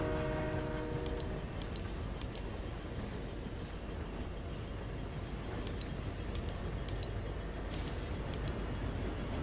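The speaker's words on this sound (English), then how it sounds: "the train will take you around all the train stations" A train in the video game Fortnite rolling between stations, a loud continuous rumble of wheels and carriages with brief horn-like tones early on, steady throughout and free of talk.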